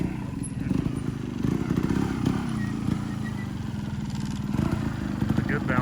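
An SSR190 two-stroke pit bike engine runs steadily nearby, a low buzzing drone with a rattling, pulsing texture that holds without breaks.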